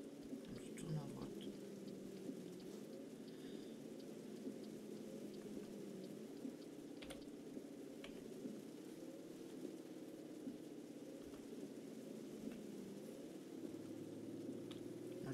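Rain falling in a video game, a soft continuous patter and hiss that runs the whole time at low level, with a voice talking over it.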